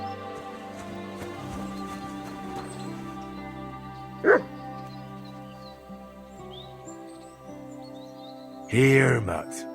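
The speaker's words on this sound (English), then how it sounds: "Barking." A dog in Kingdom Come Deliverance II gives two short bursts of barking, one midway and a louder one near the end, set against a quiet outdoor game soundscape with faint bird calls.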